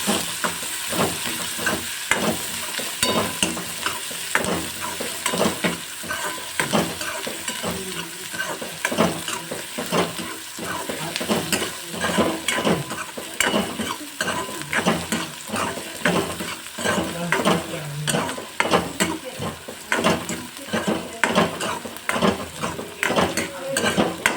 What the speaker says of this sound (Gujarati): હવે એને હું સાતડી લઈશ